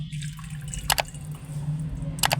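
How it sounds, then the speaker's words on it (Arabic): Half a cup of warm water splashes into an empty bowl for Egyptian basbousa in two short, close liquid bursts, with a low steady hum underneath. "هنجيب معانا بوله فاضيه وهنحط فيها نص كوبايه ميه دافيه"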